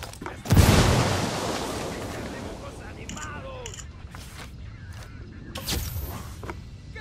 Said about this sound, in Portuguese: Granada, cuidado!